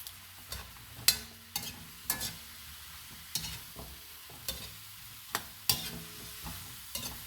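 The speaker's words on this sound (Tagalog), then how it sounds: "Halo muna guys, halo." Chicken feet adobo being stirred in a frying pan, with a spoon scraping and clacking against the pan in irregular bursts over a steady, close sizzle.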